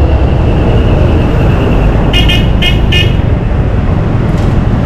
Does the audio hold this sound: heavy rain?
no